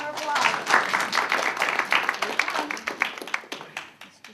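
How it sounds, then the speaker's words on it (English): An audience at a Celtic music concert claps for a musician, scattered hand claps that build and then thin out, heard close with talk over the top. "So, give him a round of applause."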